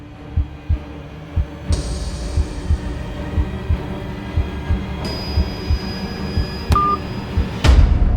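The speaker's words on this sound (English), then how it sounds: "felt anxious the minute he heard the phone drop and disconnect" A phone is dropped and the call cuts off: heavy, steady heartbeat-like thumps pulse throughout, then a short electronic beep near the end and a loud clattering impact.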